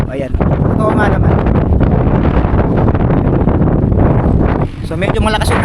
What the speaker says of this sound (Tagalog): So medyo malakas yung hangin, nakikita ko siguro sa camera natin.